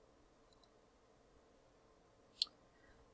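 A computer mouse clicks faintly in a quiet room, a quick double click followed a couple of seconds later by one sharper single click, with no talking.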